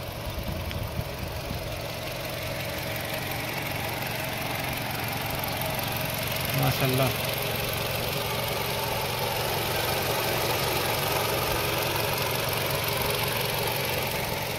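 A 2017 Toyota Camry engine idles in good condition, a steady even hum that carries on for the whole stretch, with a brief short word spoken partway through.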